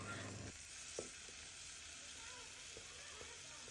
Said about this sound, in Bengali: চালটা আমরা ভালোভাবে নেড়ে চেড়ে ভেজে নেব